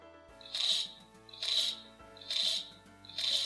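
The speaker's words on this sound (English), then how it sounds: "Tape measure." Tape measure sound effect from a Melissa & Doug construction-tool sound puzzle toy, heard as four evenly spaced bright, crisp zipping bursts about a second apart, fairly faint and alone.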